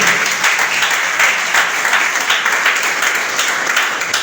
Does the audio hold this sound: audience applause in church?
yes